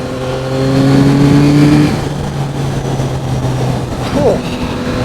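A Yamaha MT-09 SP motorcycle engine hums steadily while the bike is ridden, its tone shifting as speed settles, with rushing wind noise throughout and a brief voice over it.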